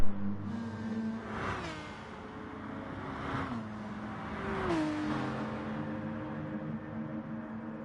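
Toyota Supra race car in a video game at Suzuka, running in a slipstream: engine notes climb and shift through gears as whooshing cars pass close by, a continuous loud racing drone with no talk.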